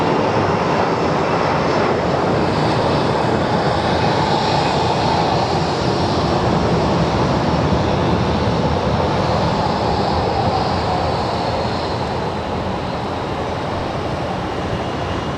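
A jet airliner taking off at Sky Harbor International Airport produces a steady, loud broadband engine roar that holds for the whole stretch, easing slightly toward the end.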